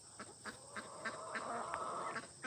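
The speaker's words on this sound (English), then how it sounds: "my rooster's being a little rowdy" On a homestead in northern Canada, a rooster and a flock of ducks call faintly from the distance as short, scattered squawks and quacks over a steady outdoor hiss.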